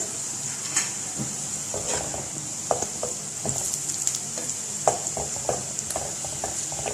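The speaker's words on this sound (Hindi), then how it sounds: "सारा जीरा इसमें डाल देंगे ताकि जीरा इसके साथ अच्छी तरह से भून जाए" Cumin seeds and onions sizzle steadily in hot oil, with occasional scraping stirs and light clinks of a utensil against the pan.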